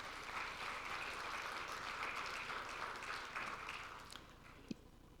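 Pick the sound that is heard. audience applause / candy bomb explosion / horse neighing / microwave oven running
audience applause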